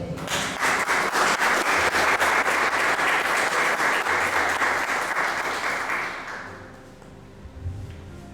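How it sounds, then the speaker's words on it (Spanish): A church congregation breaks into sustained applause, loud and dense for about six seconds before fading into a quieter room murmur, with no one speaking. "Un aplauso."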